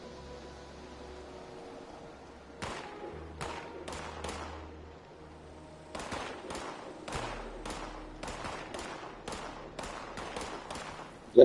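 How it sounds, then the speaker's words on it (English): Bursts of gunfire from the video game Fallout 76 crack out in quick volleys, some single shots and some rapid strings, fairly close and loud over a low steady hum. "Is that you shooting?"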